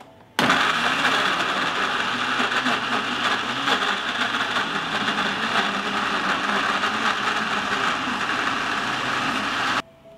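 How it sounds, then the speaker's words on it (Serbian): Kitchen blender chopping washed, cleaned strawberries, starting abruptly with a loud, steady motor whir and grinding that holds for about nine seconds, then cuts off. "I oprane i očišćene jagode stavljam u blender."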